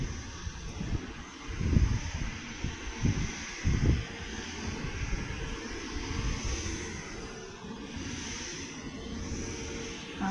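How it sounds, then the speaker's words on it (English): A Qatar Airways Airbus A350-1000 lands on the runway, its steady engine roar and wind-buffeted rumble heard from outside with a few louder low thuds. "runway just ahead of us, 23 right, is an A350-1000 of Qatar Airways, and this of course is an arrival from Doha"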